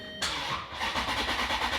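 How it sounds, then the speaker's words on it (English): Maserati GranTurismo S, rebuilt after a wreck, cranks briefly and catches, its engine bursting into a loud start and settling into a steady, rumbling idle close by. "get this car started"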